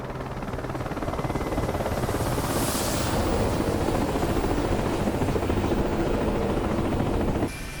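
Mi-8MTV2 helicopter in the DCS flight simulator passing close by, a loud steady rotor and turbine roar that swells and holds throughout before cutting off abruptly near the end.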